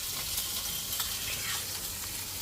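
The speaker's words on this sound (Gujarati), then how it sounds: "હવે આમાં કડાઈમાં તેલ ગરમ થઈ ગયું. તો આમાં આ છે આદુ લસણ મરચાની પેસ્ટ." Ginger, garlic and green chili paste sizzles in hot oil in a kadai, a steady, dense hiss of frying that stays even and close throughout, with no voices over it.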